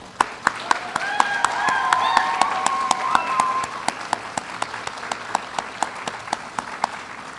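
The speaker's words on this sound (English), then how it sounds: "I think we need to give them one more round of applause." Applause from the audience at a pinning ceremony for the 2025 graduating class of an associate degree program in veterinary medical technology, steady crowd clapping with a few sharp claps up front, while indistinct voices and cheers rise briefly in the first half.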